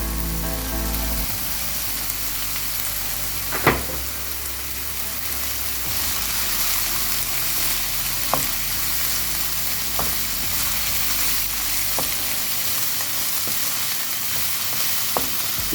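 Mushrooms frying in a pan for an egg and tomato dish, a steady broadband sizzle running throughout with a few sharp utensil clicks and scrapes at intervals, close and fairly loud, no talking.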